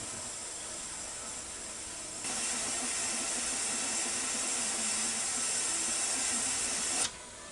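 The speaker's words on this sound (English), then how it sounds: "I see a little steam rising from around the little red button" A Ninja Foodi pressure cooker hisses steam from around its little red float valve, a quiet background sound that jumps to a louder, steady hiss for about five seconds and then cuts off abruptly.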